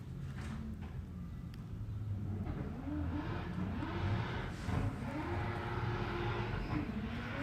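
A drift car engine revs at a Cyprus drift practice session, heard as a moderately distant rising and falling drone with repeated throttle sweeps over a constant outdoor rumble, no one talking.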